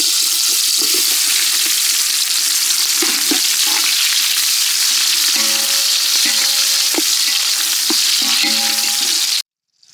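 Cinnamon and onion frying in a kadai over a village cooking fire, with a loud continuous sizzle and occasional stirring clinks, and no talk, until it cuts off abruptly at the end.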